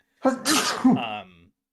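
A single loud, close sneeze: a sharp intake followed by a bright, explosive burst that trails off within about a second, heard alone.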